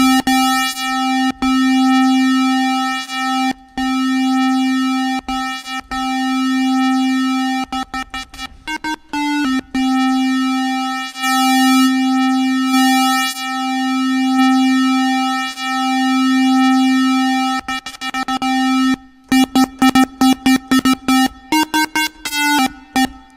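A steady synthesizer tone from the Logic Pro X ES2 synth holds a buzzy, harmonic-rich pitch, cutting in and out repeatedly, with a gritty distortion edge and a stuttering burst near the end.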